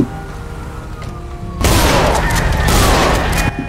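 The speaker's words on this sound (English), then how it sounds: "You literally just shot me for no reason." Gunfire in GTA 5 roleplay: a loud, dense burst of shots suddenly erupts after a quieter stretch and keeps going as a sustained crackling barrage close up.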